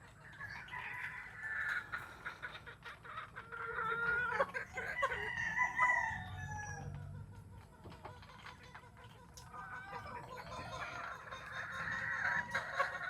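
Chickens feeding on a farm give soft clucks and scattered calls over a steady scratchy background, with a rooster-like cry in the middle and occasional talk nearby.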